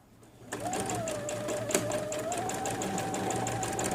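A sewing machine starts up and runs at a steady fast rhythm while stitching a pinned placket on a men's kurta, a close, even whirring hum with regular needle ticks throughout.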